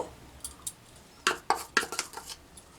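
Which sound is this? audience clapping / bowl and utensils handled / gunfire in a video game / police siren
bowl and utensils handled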